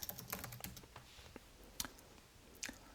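Keys clatter on a computer keyboard as a search word is typed, a quick run of close, crisp clicks with short pauses and a few louder strokes, no voices.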